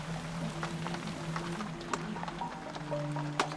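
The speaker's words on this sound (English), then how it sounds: "and it's raining again" Steady rain patters down outdoors on the Arctic tundra with scattered drops tapping nearby, accompanied by a low droning hum throughout.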